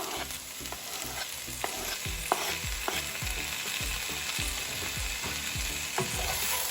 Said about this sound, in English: So now I'm going to add the chopped tomatoes.